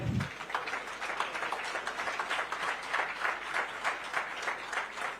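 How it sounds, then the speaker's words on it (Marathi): Audience applause at the Cyber Hack 2025 prize-giving ceremony in Nagpur, a steady wash of many hands clapping at a moderate distance and fairly faint, with no talk over it. "जोरदार टाळ्या होऊन जाऊ दे"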